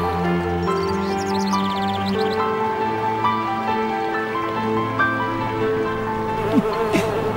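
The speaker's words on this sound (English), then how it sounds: "tiny bees flitting across a summer sun-dappled lake" Buzzing of tiny bees over a summer lake, a steady close insect drone with shifting tones, layered over a continuous background hum with no talking.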